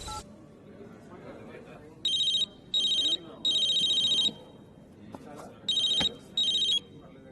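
A telephone rings in short repeated electronic bursts, five trills in an uneven rhythm, moderately loud over quiet room background with faint voices between rings.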